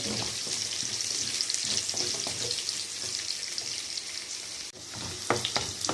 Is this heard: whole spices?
yes